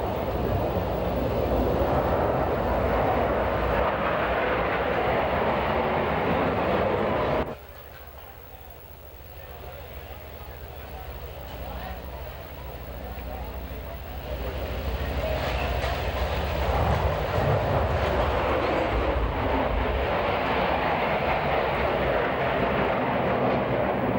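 Blue Angels Diamond formation jets pass at an air show, a loud broadband roar that cuts out abruptly, drops to a quieter rush, then swells back to a sustained heavy roar.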